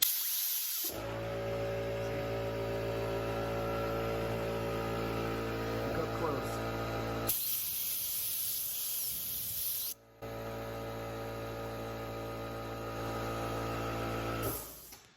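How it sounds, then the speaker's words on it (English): A loud, steady blast of compressed air from an air compressor blowing out a yo-yo bearing hisses for several seconds, cuts out briefly, then resumes, with a low mechanical hum beneath and a brief voice. "Now I'm just gonna take the air compressor. It'll make a loud noise."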